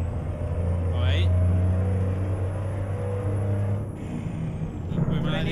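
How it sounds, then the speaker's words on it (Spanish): A heavy truck's engine brake in American Truck Simulator, hauling a double trailer in Colombia: a steady low droning rumble held for several seconds, with a faint high whine above and brief hissing bursts, loud and close. "Frenito motor."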